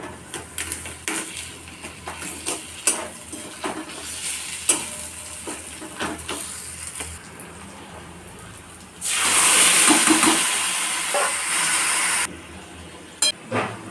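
A fish head is dropped into hot oil with fried onion, garlic, ginger and chili, setting off a loud, bright sizzle that lasts a few seconds. Spatula stirs and clinks against the pan come before and after it.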